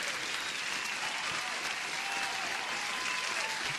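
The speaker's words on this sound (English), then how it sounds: "so I'm gonna give you an applause." A canned applause sound effect played over a livestream: a steady, even wash of crowd clapping with faint cheering, uniform in loudness throughout.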